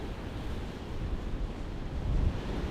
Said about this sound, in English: Down below you can see the ocean continuing its demolition of the thumb.